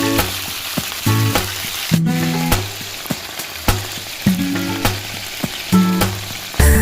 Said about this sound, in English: Burning my garlic and pepper.